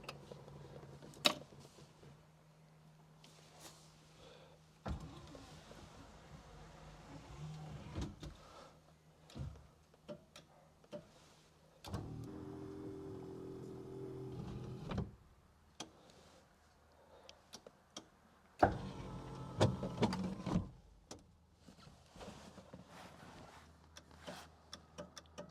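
Electric windows on a Rolls-Royce Corniche, laid up for 15 years, whir in several separate bursts with quiet gaps between them, each run a steady motor hum that stops with a soft clunk.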